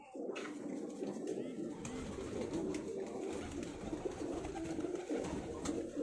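Pigeons coo softly and repeatedly nearby in a breeding loft, a low rolling murmur from several birds with faint rustling in the background.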